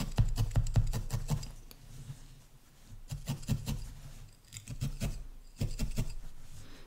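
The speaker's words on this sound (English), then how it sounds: "I'm just going to trim that excess away" Scissors snip away excess wool from a needle-felted piece in quick bursts of close, crisp cuts. Clusters of snips are separated by short pauses, with soft rustling of fibres in between.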